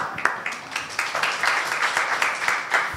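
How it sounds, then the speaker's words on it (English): A round of applause from the audience at a science forum, steady and fairly close, with dense overlapping claps running the whole stretch, no voices on top. "I would like that you demand they be given a round of applause."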